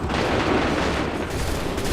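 In Assassin's Creed 3, a line of soldiers fires their guns together, making a loud, rolling volley of overlapping shots that blurs into a dense, sustained crackle.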